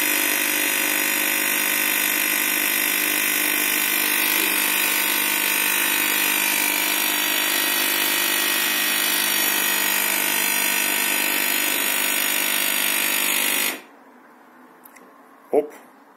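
Malfunctioning Philips HD8827 coffee machine giving off a continuous high electronic whine with a buzzing hum underneath, steady for most of the time, then cutting off abruptly, followed by a couple of faint clicks.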